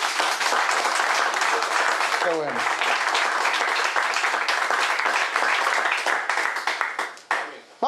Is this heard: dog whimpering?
no